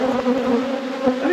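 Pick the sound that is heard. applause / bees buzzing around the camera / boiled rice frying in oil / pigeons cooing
bees buzzing around the camera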